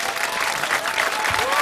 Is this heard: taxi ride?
no